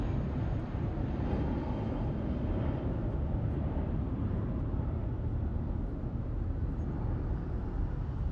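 A JetBlue airliner in the I Heart Blue livery at Los Angeles International Airport gives a steady, broad engine roar that holds even and moderately loud throughout, with no voices.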